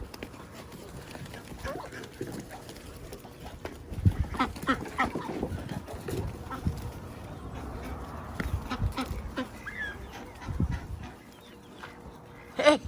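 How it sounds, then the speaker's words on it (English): A flock of farm ducks quacks and squabbles over a thrown piece of pancake, with scattered, overlapping calls at middle distance and other farmyard birds mixed in. "Here, little ducky. Here, come here. Come get some pancake."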